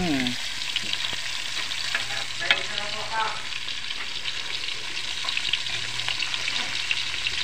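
Vegetables frying and being stirred in a pan, a steady crackling sizzle with occasional scraping and clinking of the utensil, close and continuous.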